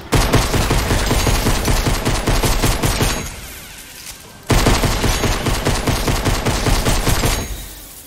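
Rapid automatic gunfire from a faster weapon in Fortnite, loud close bursts with a brief pause in the middle before the firing resumes, no talk.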